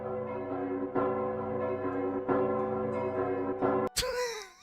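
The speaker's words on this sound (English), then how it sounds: "Do you hear the bells?" Church bells ring out in a steady, sustained peal, loud and resonant with rich overlapping tones and regular strikes roughly every second, ending with a brief break and a shifting swell.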